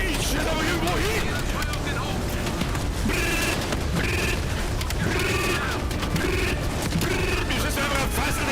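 Gunfire rattles in Call of Duty: Black Ops Cold War, with dense bursts of shots running throughout under ongoing game sounds and a talking voice.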